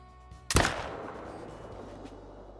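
A single AR rifle shot fired at a Rusa deer in the Call of the Wild hunting game, a sharp loud crack followed by a long rolling echo that fades over two seconds.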